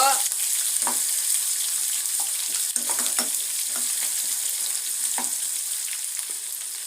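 Chopped onion fries in a pan for idli upma, giving a continuous close sizzle with scattered soft stirring scrapes and taps.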